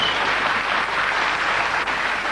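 Studio audience applause on a children's TV show, a dense, continuous wash of clapping at steady volume from start to finish.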